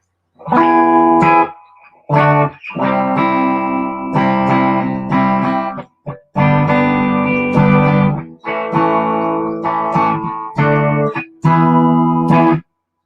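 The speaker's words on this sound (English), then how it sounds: "Here's a little bit of that VOX reverb" Electric guitar chords and riffs drenched in a VOX amp's reverb, loud and close, with short pauses between phrases.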